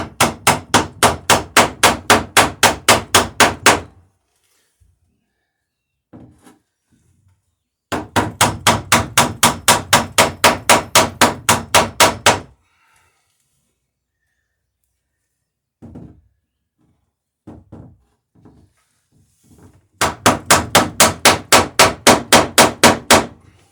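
Three loud bursts of rapid, evenly spaced hammer blows peen rivets on the bottom of a wooden cruising dinghy, each run lasting several seconds, separated by quiet gaps with a few isolated taps and knocks.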